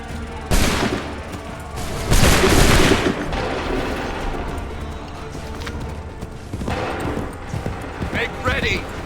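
Musket volleys crack out in Assassin's Creed III: a few loud, broadband bursts spaced several seconds apart, with shouted voices and mechanical clatter between the shots.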